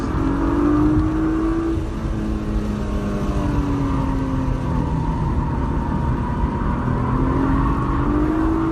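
A race car engine on track at Nelson Ledges, loud and close, drones with gliding pitch changes as it drops through gears, its rumble steady throughout without talk.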